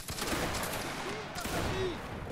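A musket volley from a line infantry video game, a dense crackling fusillade of many shots at once, heard amid a noisy battlefield with voices chatting over it.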